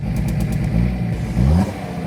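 A BMW E30 324d diesel engine idles and revs close by, a rough, clattering old-tractor-like rumble that holds steady for about two seconds with a brief swell in revs near the end.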